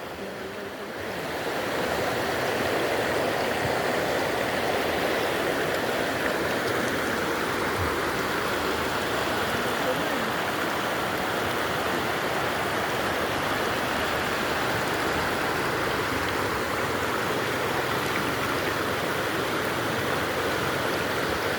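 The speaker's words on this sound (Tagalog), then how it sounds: "Ito ang ilog ng Romblon." Continuous rushing water of a river in Romblon, Philippines, a broad steady wash of flowing river noise that swells in after a second and stays loud and even throughout.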